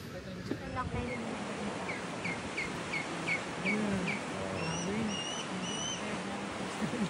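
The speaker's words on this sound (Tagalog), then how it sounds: "Basta ibon." Birds call outdoors in Queensland, a series of short repeated chirps followed by higher whistled notes, moderately close over a steady background hiss, with a few indistinct voices at times.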